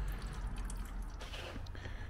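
Water drains from a car's cooling system and radiator, a steady close trickle with soft drips and splashing falling into a container, fairly faint and continuous with no voices.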